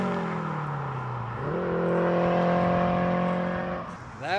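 A boosted Acura TSX roars past in a flyby, its engine note climbing sharply, holding a loud sustained tone, then dropping away as it passes close by.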